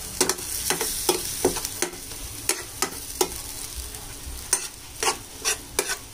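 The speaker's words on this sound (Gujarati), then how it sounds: "અને આ બટર સાથે ટમેટા જરાક અહીંયા ચડવા દઈશું અને સાથે હવે ડુંગળી બી એડ કરી દઈશું" Tomatoes and onion cooking in butter for pav bhaji, a constant sizzle broken by repeated sharp scrapes and taps of a spatula stirring in the pan, close and alone without speech.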